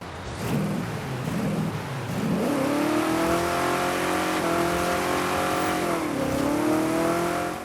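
A Ford XB Falcon GT engine in the video game Forza Horizon 5 revs up and holds a steady, rising drone with a brief dip near the end, loud and close, with no talking.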